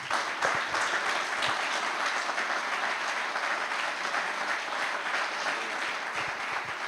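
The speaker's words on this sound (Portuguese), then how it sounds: "As palmas louvam ao Senhor" A church congregation at a celebration service claps in praise, a sustained, even wash of applause from many hands filling the room, moderately loud and continuous throughout.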